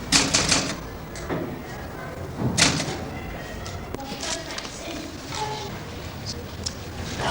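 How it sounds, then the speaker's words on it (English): A school secretary's typewriter being typed on, bursts of close, sharp key clacks in an uneven rhythm with brief pauses, with people talking alongside. "The typewriter was the school secretary's."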